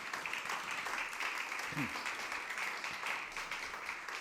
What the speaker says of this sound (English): warm round of applause for Mark.